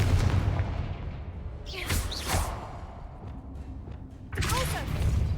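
Blasting-spell explosions in the Hogwarts Legacy video game: two sharp bursts with whooshing tails in quick succession, then another blast near the end, over a low game rumble.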